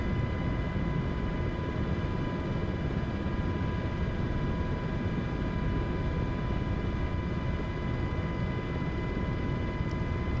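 An MH-60 helicopter in a flight simulator game drones steadily with a dense, unbroken rotor and engine roar and a faint tonal whine, loud and constant for the whole stretch with no talking.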